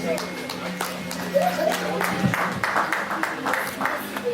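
An audience at an awards ceremony claps for an executive award winner, with scattered uneven applause running under a speaking voice and crowd murmur.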